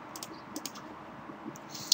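Mouse clicks while selecting an Xbox 360 controller emulator option on a computer, a few light, sharp clicks scattered over a quiet background, close and crisp.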